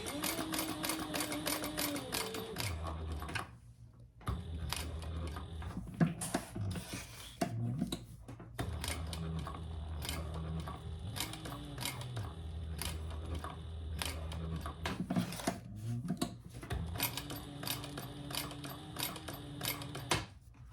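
Sewing machine stitching a travel organizer in short, quiet runs of rapid clatter broken by brief stops, heard close without any talking.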